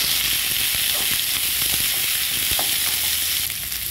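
Plenty of onion frying in a pan for a sardine dish, with a steady close hiss and sizzle broken by faint scrapes and small pops, with no voices.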